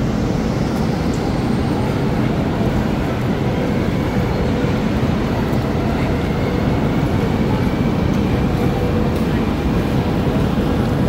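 Inside a Shenzhen metro train car, a loud, continuous low rumble and roar of the carriage running fills the space, steady and close, with a faint voice or two beneath.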